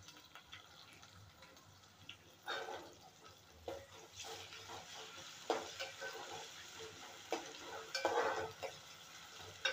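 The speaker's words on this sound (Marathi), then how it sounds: "आता मी टोमॅटो टाकते।" Tomatoes tossed into a pan of fried onion for a village-style dry fish dish, giving a soft sizzle with stirring scrapes and a few louder bursts as the pieces hit and are moved around, fairly quiet throughout.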